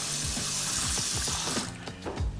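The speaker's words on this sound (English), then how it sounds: "And then I'll add just a tiny bit of water." Water pours from a tap into cinnamon and spice oats, a close, steady gurgling splash that breaks into a few irregular drips and spurts near the end.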